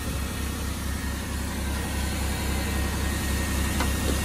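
A Chevrolet Monte Carlo with 200,000 miles, bought at a public auction, idles steadily just after being started, a constant low engine rumble up close with no talking.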